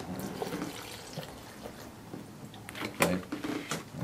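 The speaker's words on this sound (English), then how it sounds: "I'm gonna add my distilled water." Distilled water is poured into a blender jar, making a soft, steady splashing trickle for a few seconds, with a couple of small clunks near the end.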